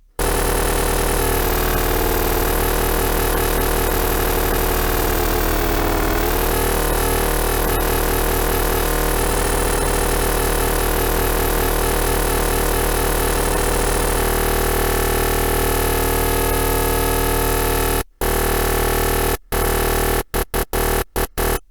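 A sustained FM synthesizer tone built for psytrance, its pitch drifting from slightly detuned coarse modulation, droning loud and steady with shifting metallic timbre before cutting out in a few abrupt stutters at the end.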